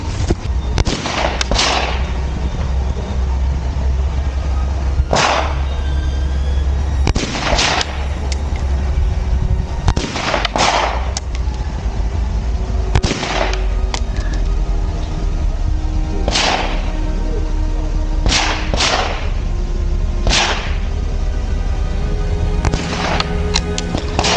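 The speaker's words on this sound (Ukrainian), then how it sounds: "Повернулися, робимо ще серію з п'яти пострілів, але вже по іншій мішеньці." Sharp AK rifle shots at target practice crack out at irregular intervals, some in quick pairs, about a dozen in all, over a steady low outdoor rumble.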